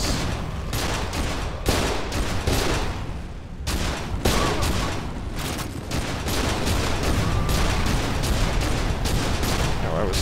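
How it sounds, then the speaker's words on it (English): Mounted turret gunfire in the shooter game F.E.A.R. 2, a loud, dense stream of rapid shots and booms running almost without a break, with a few short pauses. "I guess I'm getting on this turret."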